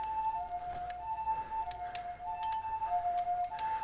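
A distant ambulance siren wails with steady repeating tones over faint background noise in Japan, no voices heard.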